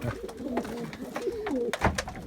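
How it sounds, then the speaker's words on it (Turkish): Several pigeons coo softly and repeatedly, close by, with low rolling calls overlapping against faint rustling. "Sahiplendireceğim kuşlar bunlar"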